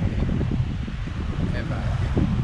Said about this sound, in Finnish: Täällä on niin kova tuuli